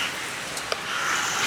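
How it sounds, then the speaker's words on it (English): Steady rain falls in Dos Quebradas, Colombia, a soft continuous hiss with a few close individual drop ticks and no voices. "We've been getting a lot of rain every day."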